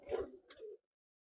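A single close pigeon coo in a loft, a soft throaty burst of under a second followed by silence.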